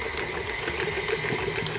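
A KitchenAid stand mixer creams butter and sugar on low speed, a continuous whirring motor hum with a faint rhythmic knock, close and steady, with no talk.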